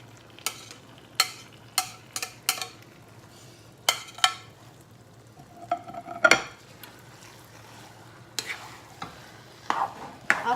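Biringhi, a Kapampangan rice mixture, stirred in a frying pan. A spoon scrapes and knocks against the pan in quick irregular strokes over a faint sizzle, with a louder clatter midway.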